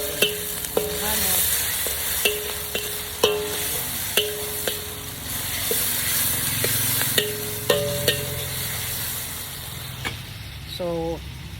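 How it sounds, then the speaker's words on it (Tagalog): Tomatoes cooking in a pan for a ground-meat dish are stirred with a utensil, giving repeated sharp scraping clacks against the pan over steady low sizzling, with brief background voices and some faint tones. "Pagluto na ang kamatis, halo-halo na natin."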